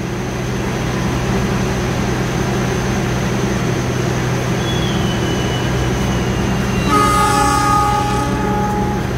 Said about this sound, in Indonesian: Ini di jalur sebelahnya masuk kereta api